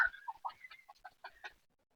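Chickens clucking inside a coop, a string of short close clucks and calls in uneven rhythm, fairly quiet, with no talking.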